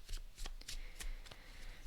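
Soft riffle-shuffling of a smooth tarot deck, with quick papery flutters and snaps coming in short bursts. The sound is quiet and close, with no voices.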